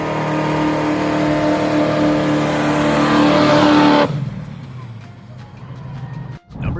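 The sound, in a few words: V8 muscle car engine revving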